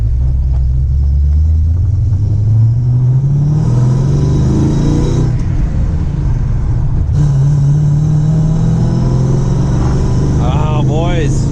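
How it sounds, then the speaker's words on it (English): Heard from inside the cabin, a Lincoln Mark VIII with headers and a manual transmission rumbles loud and low, the V8 exhaust note rising and falling through revs and shifts, with a voice speaking under the engine. "It's nice to be able to hear with those headers the exhaust note from inside the car a little better."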